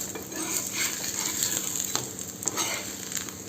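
Thalipeeth, a flatbread, fries on a pan after being flipped, giving a steady close sizzle and hiss with a few faint clicks throughout and no talking.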